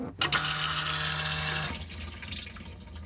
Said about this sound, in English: Blue button to flush.